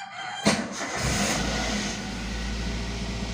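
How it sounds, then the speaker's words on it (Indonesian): A car engine cranks briefly and catches, then settles into a steady, close idle rumble that continues on its own with no talk over it. "Nah, kemudian itu indikator semua sudah nyala, kita nyalakan mesinnya."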